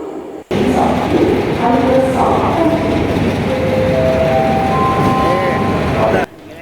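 Loud rumble of a train at a Sri Lankan railway platform with squealing tonal brakes and machinery hum, plus background voices, cutting off abruptly at the end.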